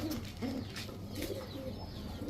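Pakistani teddy racer pigeons coo in a low, repeated throaty rhythm, fairly close but soft, with a few faint chirps over a steady background hum.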